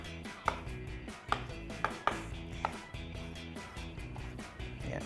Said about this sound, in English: so we're gonna cube it as well, or cut it in chunks